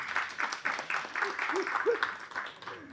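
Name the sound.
audience applause at a movie press meet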